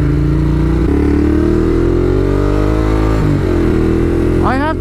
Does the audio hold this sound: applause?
no